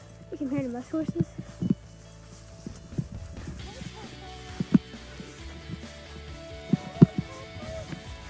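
A small horse walks on a farm, its hooves clip-clopping in scattered, uneven steps close by, with occasional voices and other farmyard sounds around it.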